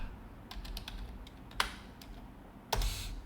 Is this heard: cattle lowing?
no